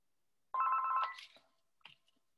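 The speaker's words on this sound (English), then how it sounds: "Excuse my phone there. I'm not going to pick that up." A telephone rings with a repeated electronic trill that is loud and near, followed by a few softer clicks and short tones. No one speaks over it.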